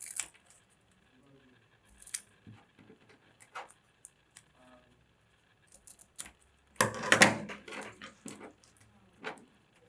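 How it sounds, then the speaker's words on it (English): Scissors cutting double-sided tape squares into quarters, giving scattered light snips and handling clicks with one louder burst of cutting near the end, close and otherwise quiet. "Now let's take our double-sided squares and cut them into 4s."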